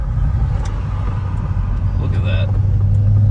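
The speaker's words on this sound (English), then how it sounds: "So we're gonna downshift a second." A Chevrolet Corvette C6 engine drones low and loud inside the cabin as the driver downshifts, with someone talking briefly over it.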